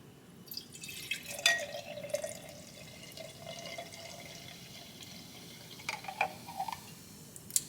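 Drink being poured at a breakfast table, with small trickles and drips of liquid splashing into a glass in short, uneven bursts over quiet room tone.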